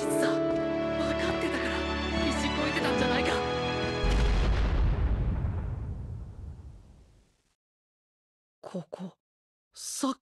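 A large explosion from the My Hero Academia: The Strongest Hero mobile game, a loud sustained roaring blast that deepens into a heavy low rumble, then fades to silence before a few short bursts of speech.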